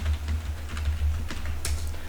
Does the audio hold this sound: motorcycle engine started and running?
no